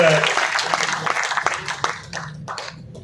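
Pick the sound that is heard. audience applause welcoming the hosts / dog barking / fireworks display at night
audience applause welcoming the hosts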